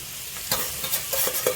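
Roasted semolina for vegetable upma sautéed and stirred in a pan, with a soft continuous sizzle broken by a few quick scraping strokes of the spoon, close and fairly quiet, no voices.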